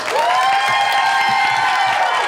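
A farmers market crowd at a feud-style game show applauds and cheers in a brief, loud, steady burst, with raised voices and whoops mixed into the clapping.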